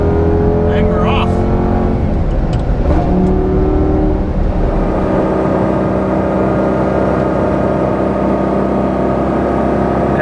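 A Lamborghini pulls away, its engine revving up loudly and then settling into a steady cruising drone with road and wind noise inside the car.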